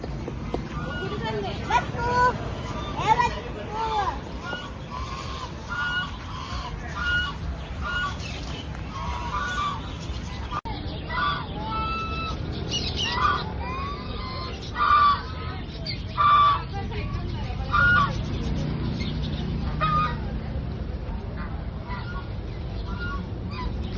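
Ducks and other fowl quack and honk in short bursts close by at a farm with a cowshed, mixed with people chatting throughout.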